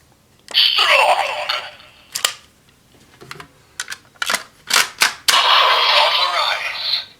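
A DX Shot Riser toy with the Amazing Hercules key plays its electronic effects: long bright synthesized sweeps, then a quick run of sharp clicks and zaps, and another sustained sound burst, all loud and close.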